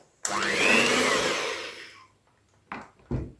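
Electric mixer beating honey cake batter: a close, loud motor whir for almost two seconds that winds down, followed by two short bursts of the mixer starting again.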